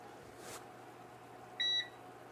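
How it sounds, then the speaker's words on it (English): A short electronic beep from a kitchen appliance rings out once over quiet background hum, clear and fairly close. "Lots of beeping."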